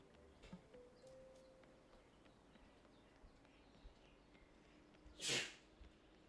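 A single sharp human sneeze rings out near the end of a quiet stretch, preceded only by faint game sounds and small noises.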